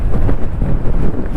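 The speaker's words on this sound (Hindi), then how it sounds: "हवा चलती है, आपको आवाज़ भी आ रही होगी माइक पे।" Strong wind buffets a microphone on the mountain road to Gunji in Uttarakhand, a loud, continuous low rumble that surges and dips throughout with no speech.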